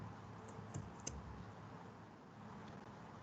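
A computer keyboard is tapped briefly, a few faint, sparse clicks over a quiet background hiss.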